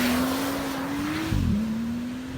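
2017 Porsche 911 Turbo S launching under launch control, a loud rising engine whine that climbs steadily, dips sharply at a gear change with a thump, then climbs again, alone without talk.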